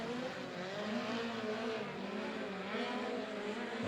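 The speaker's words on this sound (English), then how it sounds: "A very loose race car coming off the corner." A loose midget race car powers off a corner at Humboldt Speedway during a POWRi league race, its engine a steady, distant roar over constant crowd and track noise.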